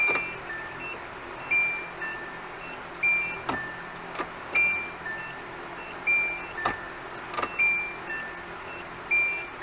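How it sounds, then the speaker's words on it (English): A faint steady whine from a Nissan Hardbody pickup's fuel pump being revived after long disuse, overlaid with recurring short beeps and intermittent clicks and pulses at close range. "It actually kind of sounds like the fuel pump's making noise."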